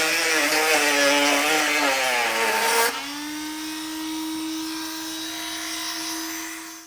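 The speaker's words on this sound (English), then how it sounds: "I'm going to use a Dremel this time just so that we don't have to worry too much about it skipping" A Dremel rotary tool whines steadily while cutting plastic under the front bumper of a 2017 Chevrolet Equinox. The tone is high and close, dropping in pitch midway as the tool loads up, then running on alone.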